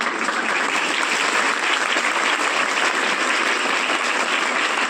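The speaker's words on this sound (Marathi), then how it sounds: "या टाळ्या वाजले ना" Audience applause at a Marathi Language Day guidance talk, a dense and even wash of many hands clapping together, loud and steady for the whole five seconds with no talk over it.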